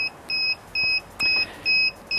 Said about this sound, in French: Si j'appuie sur le bouton ici, je coupe l'alarme.